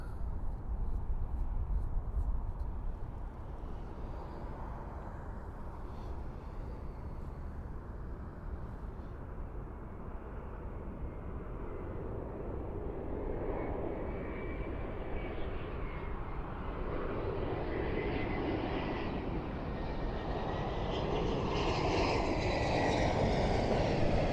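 An airplane lands at Toronto airport in the early morning, its engine roar a steady, broad rumble that builds and grows louder as it nears toward the end, with no talk over it.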